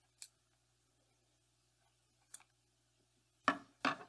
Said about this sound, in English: So we have to cut the hose here.